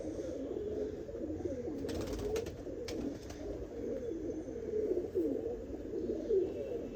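Steady low cooing of a pigeon, a male being paired with a Teddy hen, rolling on continuously at moderate loudness with soft background noise and brief clicks, no talking.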